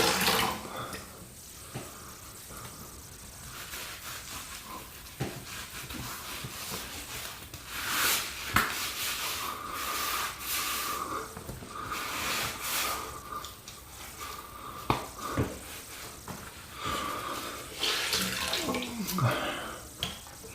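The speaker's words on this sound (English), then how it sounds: "And just a little more water to make sure that it's fully rinsed." Tap water runs while a face is rinsed at a sink as part of a daily routine, a continuous broadband splashing and trickle with uneven surges and a few sharper drips, close and moderately loud without talk.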